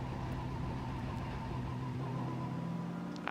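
GT race cars cross the line at the end of the Suzuka 1000km endurance race, a faint, distant engine drone at a steady pitch rolling continuously beneath the track ambience.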